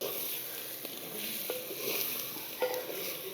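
Chili powder sizzles in oil with fried onions, mint and coriander, a quiet steady hiss broken by a few soft stirring scrapes.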